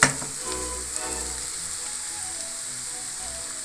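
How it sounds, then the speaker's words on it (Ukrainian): Fish soup ingredients fry and stew in a home kitchen in a Ukrainian village, giving a steady, close sizzle and bubbling that runs unbroken with no talk over it. "Все тушкується, смажиться."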